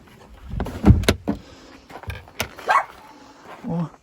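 A guard dog barks several times near a 2009 Skoda Octavia 1.6 MPI on a used-car lot, the barks sharp and fairly close, mixed with clunks and handling noises around the car.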